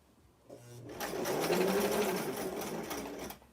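A sewing machine stitches a Western-style blouse in one steady, close run of rapid whirring stitches that starts after a short pause and stops cleanly.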